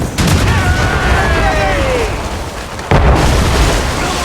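Naval cannon fire aboard a sailing warship in Assassin's Creed Rogue: heavy booming blasts and rumbling bursts, loud and close, with a sharp renewed blast near the end over whistling wind and sea noise.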